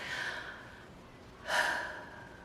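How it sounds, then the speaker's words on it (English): A person takes slow, deep, relaxing breaths, soft and close, with one airy breath at the start and a stronger, louder one about a second and a half later. "I'm just breathing here to relax"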